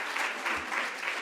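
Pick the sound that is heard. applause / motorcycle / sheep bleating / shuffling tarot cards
applause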